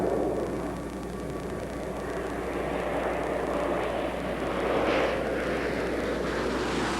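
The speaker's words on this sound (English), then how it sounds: "the runway clearly visible as Commander Jim Halsell brings Atlantis in for a landing" Space Shuttle Atlantis comes in to land on the runway, a steady broad roar of rushing air and engine-like noise that holds fairly constant and swells slightly near the end, with no talk.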